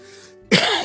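A single sharp, loud cough bursts out close by after a moment of near silence, with a rough throat-clearing tail trailing off.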